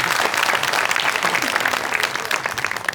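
Audience at a comedy show applauding, with dense, steady clapping from a crowd that fills the whole stretch and stays fairly loud without a pause.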